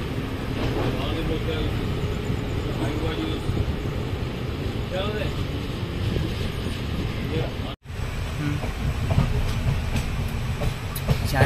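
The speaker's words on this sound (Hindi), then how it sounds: "तो अपनी ट्रेन नेताजी सुभाष चंद्र बोस जंक्शन यानी गोमो से डिपार्ट हो" The Islampur Hatia Express runs on the tracks after leaving Gomoh junction, giving a continuous rolling rumble with faint clickety-clack of the wheels, heard from on board amid steady wind buffeting and a brief dropout.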